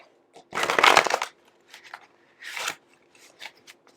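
Tarot and goddess cards shuffled by hand, a loud riffling burst followed by softer taps and another shorter riffle, close and dry with no talking.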